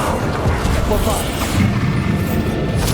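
A deep booming blast from the Bombarda explosion spell in Hogwarts Legacy, a dense rumbling burst layered with crackling debris and game effects, with a voice speaking briefly over it.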